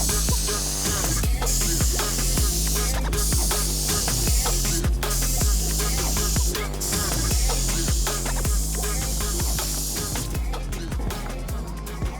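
Aerosol spray paint hisses onto Notch X Max flares and leaf springs for a Jeep Cherokee XJ, long loud bursts of spraying with short pauses between them, close by.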